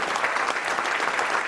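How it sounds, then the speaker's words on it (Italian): A concert audience gives dense, steady applause, many hands clapping at once in a full, even wash with no break. "fatevi un applauso"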